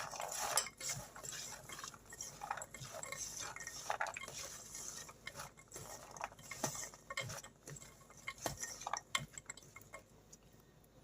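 A spoon faintly clinks and scrapes against a pot while stirring salt, coriander-cumin powder, turmeric, red chili powder, garam masala and kasuri methi into desi black chickpeas, with quiet, irregular taps and no talking.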